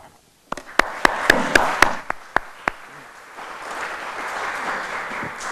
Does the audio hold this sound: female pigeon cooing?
no